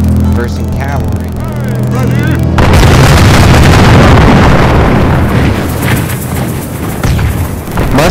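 Musket volleys against charging cavalry in a film battle scene: after a short musical opening, loud, dense booming gunfire and rumbling blasts fill the rest of the clip without a break.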